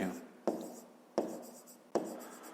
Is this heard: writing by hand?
yes